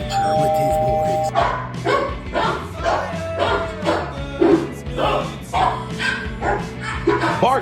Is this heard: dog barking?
yes